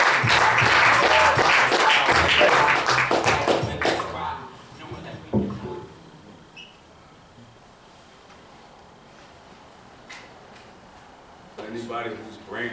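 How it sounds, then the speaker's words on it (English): An audience at a poetry cafe fundraiser bursts into loud applause for about four seconds, fading into quiet room noise with a few scattered claps and some talk near the end. "clap it up, clap it up"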